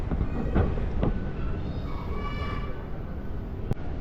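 A train in Singapore bound for Sentosa Island rumbles steadily throughout, with faint metallic squeals and a couple of clatters rising above the low, continuous roar.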